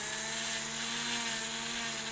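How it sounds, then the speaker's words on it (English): Rotary tool fitted with a fine-grit sanding drum grinding dense EVA foam, a steady close high-pitched whine throughout the short stretch. "So I'm going to do a little bit of a finer grit sanding drum."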